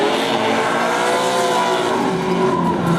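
Close, loud roar of V8 drift car engines, including a V8 Miata, multiple high revving tones layered together with squealing tires, steady and continuous throughout, at a Formula Drift event at Pacific Raceways, 2013.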